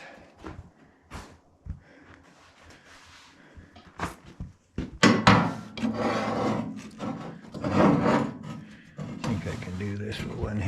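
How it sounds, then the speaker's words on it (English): Thin plywood pieces slide into place under a Woodland HM122 sawmill setup. Light wood taps give way to louder, sustained scraping and rubbing of wood on wood, with a voice briefly audible. "I just slide them under"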